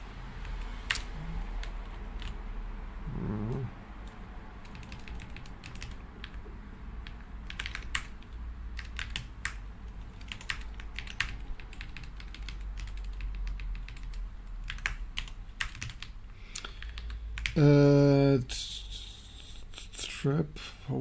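Close typing on a computer keyboard during Linux coding work comes as a long run of quick, crisp key clicks in uneven bursts, with someone talking quietly at times.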